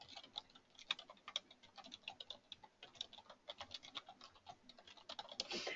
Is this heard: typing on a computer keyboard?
yes